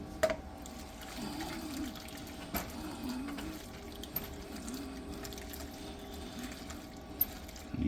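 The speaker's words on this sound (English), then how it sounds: "we are going to add some pasta water" A small splash of starchy pasta water, about a tablespoon, pours into a pan of homemade Alfredo sauce; the trickle is quiet and close, with faint kitchen clatter and no talking.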